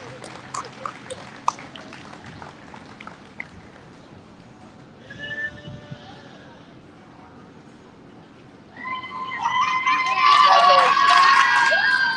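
Audience applause and cheering swell up loudly near the end at a 2023 sheep show, following stretches of quieter arena noise and a few bleats from animals in the ring.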